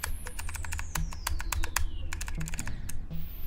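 Rapid keyboard or mouse clicks during a rhythm game, a steady close stream of sharp taps over quiet game music, without speech.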